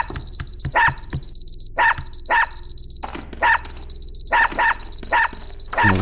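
A dog in the video game Unepic barks in short repeated bursts, alongside a steady high electronic beeping tone that runs through most of the stretch, with no talking.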